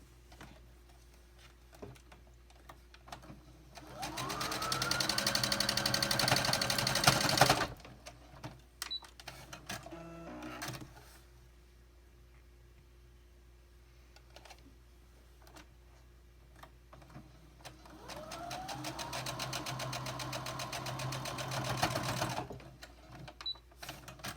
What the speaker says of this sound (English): I'm going to sew straight across.